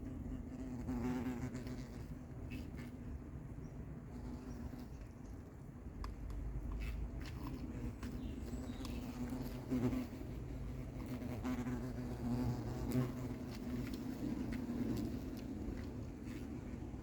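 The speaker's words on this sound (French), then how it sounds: "Frelon qui arrive se pose sur moi direct." Insects buzz steadily around a beehive apiary, with a hornet among them, a continuous low drone that is faint and even, with occasional small bumps and rustles close by.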